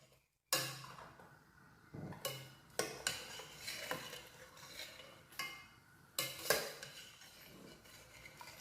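A large onion is stirred with green chilies in a cooking pot, with repeated scraping and clinking strokes of a utensil against the pot over a soft sizzle, close and without talk.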